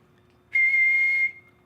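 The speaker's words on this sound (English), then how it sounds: "I can't power whistle at all." Single soft, steady whistled note from a person in a quiet finesse style, lasting under a second and fading out cleanly, heard close against near silence.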